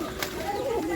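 A racing pigeon gives a soft low coo up close, a brief murmuring call in a short moment with voices around it.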